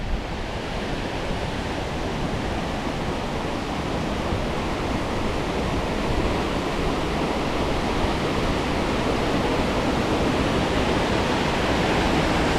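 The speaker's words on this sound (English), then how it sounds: "this is where the waterfall starts from" Rushing water at the Cotter Force waterfall roars steadily and loudly, a constant broadband wash from nearby, with no voices.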